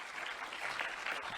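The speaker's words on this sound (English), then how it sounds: "Can we get a round of applause for our panelists," Brief, faint audience applause for the panelists at the close of a conference session on coyotes, a soft dense patter of many hands heard from a distance.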